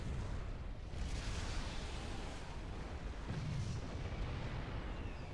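Explosions from a bombing run in the real-time strategy game Supreme Commander 2, a dense continuous rumble of booms and blasts with a heavier burst around the middle, loud and steady throughout with no talking.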